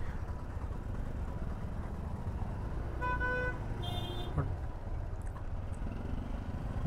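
Road traffic in Mangaon on the Mumbai–Goa highway NH66, with a steady rumble of engines and a clear multi-tone car horn sounding twice in the middle, a short honk followed by a longer one, against constant vehicle noise.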